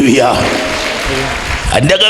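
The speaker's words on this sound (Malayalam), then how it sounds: "കൈയടിച്ച് നന്നായിട്ട് കർത്താവിന് മാത്രം കൊടുക്കുക" A church congregation claps steadily in a dense, continuous wash of applause lasting about two seconds, with a voice speaking over the clapping near the start and end.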